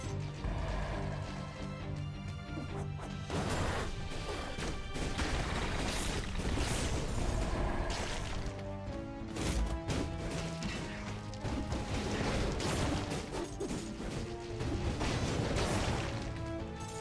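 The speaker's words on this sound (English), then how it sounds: "Something just exploded in front of me" A sudden explosion bursts in the Dead Cells video game, amid a dense, continuous barrage of crashing impacts, pops and whacks layered over loud game music.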